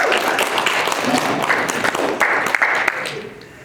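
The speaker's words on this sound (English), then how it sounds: "Okay, guys, give them a round of applause." An audience claps for volunteers at a Christmas hypnosis show, a fairly loud burst of mixed clapping and cheering that holds steady and then tapers off near the end.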